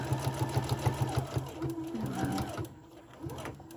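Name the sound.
sewing machine back-stitching a fabric mask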